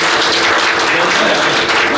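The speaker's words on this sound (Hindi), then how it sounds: "एक बार जोरदार ताली से स्वागत" Loud, dense applause from an audience welcoming a Bhojpuri film writer at a movie event, a steady close wash of clapping without pause.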